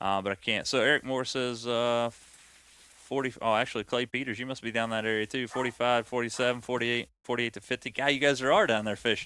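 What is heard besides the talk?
No everyday noises stand out.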